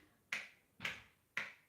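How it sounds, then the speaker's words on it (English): Three sharp hand claps spaced at regular intervals about half a second apart, each a crisp snap that decays quickly, heard alone in a quiet room. "a man clapping his hand at regular interval like this"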